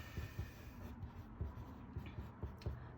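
Pen or pencil writing notes on paper, listing drawing steps for two-point perspective; faint scratchy strokes in an uneven rhythm over a low hum, quiet and close.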